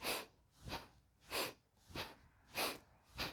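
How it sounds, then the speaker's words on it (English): Six quick, sharp sniffing breaths drawn in through the nose during a seated kriya breathing exercise, evenly spaced and fairly close, with soft pauses between them and no talking. "Okay, nice sniff breath."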